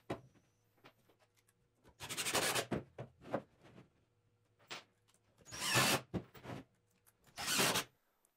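A power drill drives 2.5-inch Kreg screws to join wooden boards for a rustic end table, with three main whirring bursts separated by quiet pauses and a few short blips.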